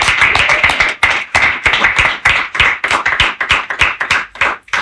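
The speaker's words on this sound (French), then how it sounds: "Applaudissons encore une fois." A small group claps in a live radio studio in Kinshasa, giving loud, crisp, distinct hand claps in a quick, uneven rhythm close to the microphone.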